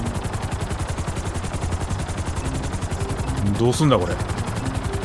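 The helicopter in Grand Theft Auto gives a rapid, steady rotor chop close by, with a voice speaking briefly over it.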